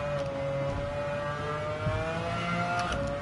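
A race car engine in Gran Turismo 7 drones at a steady, high-pitched rev, with a faint whine layered over it and no voices.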